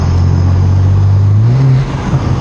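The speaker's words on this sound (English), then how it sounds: "I prefer intake noise to exhaust noise all day." A BMW G87 M2 fitted with Eventuri intakes and a RaceChip GTS Black tune accelerates hard, its loud intake roar climbing steadily in pitch before easing off near the end, close and alone.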